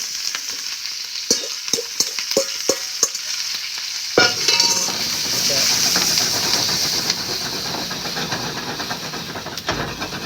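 Red bell pepper and poblano peppers stirred in a hot pan for black pepper steak: a run of sharp utensil clicks and taps, then a loud, close, steady hissing sizzle with occasional scraping.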